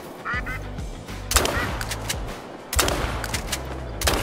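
Loud gunshots crack twice amid a flock of Eurasian wigeon ducks quacking and calling nearby on a coastal hunting ground, with steady duck chatter between the shots.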